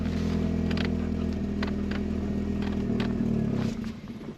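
Parked-since-2018 Vauxhall Astra Mk3 Premier engine idling with a steady low rumble and some clatter, then cutting out near the end as the drone drops away.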